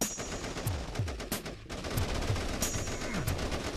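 Rapid bursts of gunfire from the VR tower-defense game Beach Defender TD on Meta Quest 2 come in quick repeated volleys with sharp cracks and low booms. The shooting is loud and continuous, with no voices over it.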